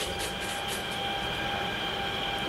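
A local train runs steadily in the RG Train Tech Demo video game, giving a continuous, even rumble with a faint high tonal whine throughout and no talking.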